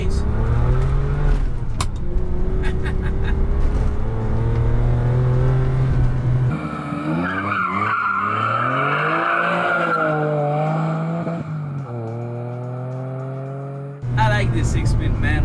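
A Ferrari 456GT's naturally aspirated V12 with a six-speed manual roars loudly as it accelerates through gears, revs rising and dropping with shifts, while someone talks over the drive.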